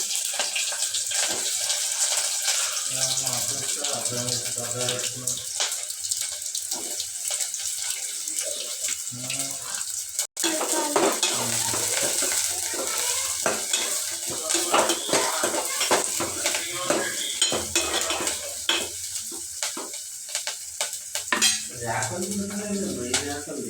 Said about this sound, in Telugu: ఆయిల్ వేసి పుదీనా కడిగేసి ఉల్లిగడ్డ వేసి